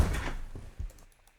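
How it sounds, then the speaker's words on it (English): An office chair bumps and knocks, a couple of dull close thunks followed by a faint light creak, fairly quiet with no voices. "I think it's me hitting into my chair. I'm like banging in my chair or something."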